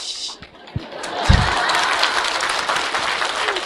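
An audience claps at a talk, rising from a few scattered claps into steady, fairly close applause that carries on to the end.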